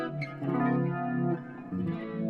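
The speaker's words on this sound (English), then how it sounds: "Clean modulation, I basically just turn on the flanger, the phaser, the chorus, and the delay." Clean electric guitar chords run through flanger, phaser, chorus and delay on a Fractal FM9, a shimmering swirling tone with sustained notes that fade briefly before a new chord rings out.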